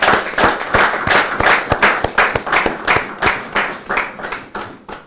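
An audience gives a round of applause at a talk on projects and systems for national transformation, loud, dense clapping with a pulsing rhythm that swells and fades in waves, near and without speech.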